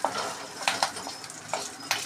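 Curry leaves, green chili and ginger frying in a pan for mor kulambu, a soft steady sizzle broken by several sharp clinks and scrapes of a spoon against the pan.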